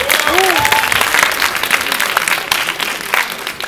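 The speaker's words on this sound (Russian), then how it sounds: "давайте похлопаем" Audience applause at a pageant final, a dense, loud burst of clapping from a crowd that keeps going throughout, with a few voices and cheers mixed in.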